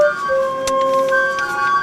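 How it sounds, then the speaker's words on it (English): A steam calliope rolling past in a county fair parade, its sustained whistle-like notes ringing out loud and steady over outdoor street noise, one brief burst of sound cutting through near the middle. "the Calliope. Pretty unusual."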